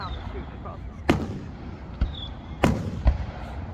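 Fireworks bursting during a 4th of July grand finale, with a few separate booming explosions spaced a second or so apart over a steady background murmur of crowd noise.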